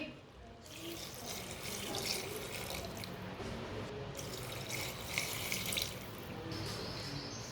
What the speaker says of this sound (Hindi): अब इसमें 2 गिलास पानी डाल लेंगे।